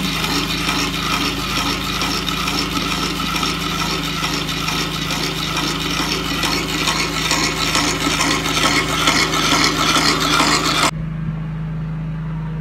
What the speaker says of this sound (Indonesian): Setelah di rotator selama 2 menit kecepatan 100 rpm